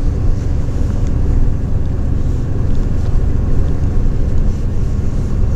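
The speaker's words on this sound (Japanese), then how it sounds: "このようにたまにグワーッと床下から運転手さんがアクセルを踏んでいる音を聞き" Night highway bus engine heard from inside the cabin while cruising westbound on the Tomei Expressway, a steady loud low rumble and road roar from beneath the floor as the driver accelerates, continuous with no talk.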